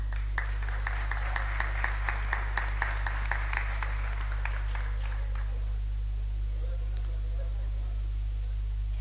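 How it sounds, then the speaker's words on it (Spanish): A lottery-draw audience in Asturias gives brief applause, dense rhythmic clapping filling the first five seconds before fading into near quiet room tone with a low steady hum underneath. "un fuerte aplauso para Noa"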